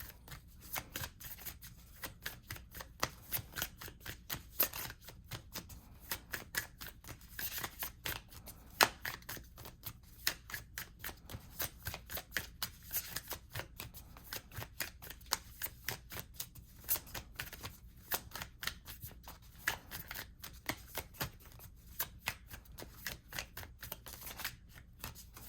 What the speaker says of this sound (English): So I'm going to pull an oracle card for you for group 4.